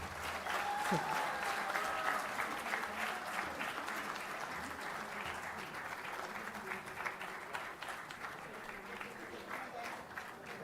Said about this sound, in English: Just one round of big applause.